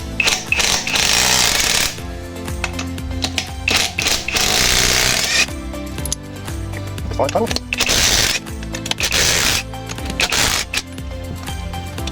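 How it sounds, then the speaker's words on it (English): Impact wrench with a 21mm socket removing wheel nuts on a 2000 Ford Falcon AU, loud close rattling bursts of hammering a couple of seconds each, repeated several times with pauses between. "We're using a 21mm socket impact to move these wheel nuts."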